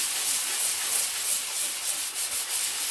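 A steady, even rubbing hiss of a lightly rusted block plane worked around on a sharpening stone, continuous and close with no speech.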